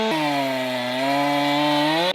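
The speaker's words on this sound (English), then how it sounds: "This is a 24-inch Doug fir, and you're gonna do it with a 20-inch bar" A chainsaw with a 20-inch bar cuts into a 24-inch Douglas fir being felled, giving a loud, steady engine roar that holds an even pitch for about two seconds and then cuts off abruptly.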